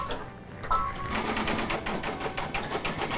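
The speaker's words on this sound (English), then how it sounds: "now we're ready to stitch the satin stitch around the outside of the cabbage rose" An embroidery machine sews a satin stitch around the outside of a cabbage rose appliqué, a dense, fast mechanical rattle of rapid stitches that runs steadily and close up throughout.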